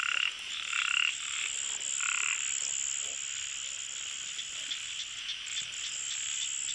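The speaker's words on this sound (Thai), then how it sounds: "กบครับ กบกบ" Frogs croak in a rain-soaked rice field at night, a dense chorus of rhythmic calls with insects buzzing steadily behind, close and continuous.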